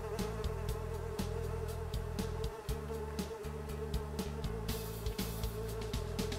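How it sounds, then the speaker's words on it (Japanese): Houseflies in the video game Fly Simulator, swarming a pizza shop, make a steady, dense buzzing drone that carries on throughout, with faint intermittent clicks behind it. "プンプンプン、ハエが飛ぶ。"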